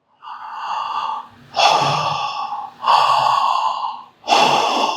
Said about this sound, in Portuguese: É como o som da respiração, ó.